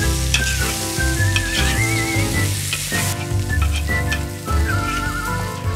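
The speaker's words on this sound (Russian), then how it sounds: "Ребрышки обжарились." Ribs and onion frying in a kazan over a wood fire for gudzha osh, a loud steady sizzle and crackle with stirring, under a bed of music.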